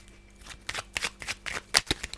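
Tarot cards being shuffled by hand in several quick riffling bursts, close and crisp, with a faint voice in the background.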